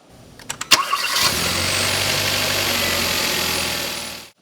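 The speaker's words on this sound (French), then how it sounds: "on s'assure de démarrer le véhicule qui est en fonction" A car engine cranks with a few quick bursts, catches, and settles into a steady, close idle that continues until it cuts off. This is the working car used to jump-start a vehicle with a dead battery, and there is no talk.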